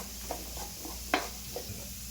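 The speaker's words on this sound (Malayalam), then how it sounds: "നമ്മൾ നന്നായിട്ടൊന്ന് വഴറ്റി കൊടുക്കട്ടെ" Coriander and turmeric powder being sautéed in a pan, with a soft low sizzle and a few scattered scraping stirs, one noticeably sharper than the rest, and no talking.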